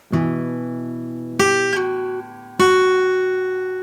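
Three picked guitar notes ring out on their own, the second sliding down in pitch, each decaying slowly before the next attack.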